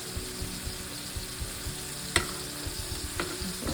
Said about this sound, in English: I had just put just a little bit of olive oil in the skillet just to get it started